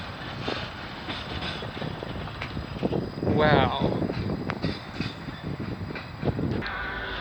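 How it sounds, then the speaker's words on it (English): CN freight train 435 passing through Burlington, Ontario: a steady, loud rumble and rolling clatter fills the whole stretch, with a brief swell midway and a person's short exclamation over it. "435 CN train. He's coming down the line."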